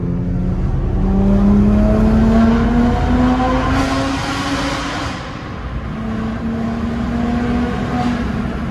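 A BMW engine revving high inside a tunnel, its loud rising pitch climbing through the gears with reverberant tunnel echo, sustained and close, with a brief dip midway before climbing again.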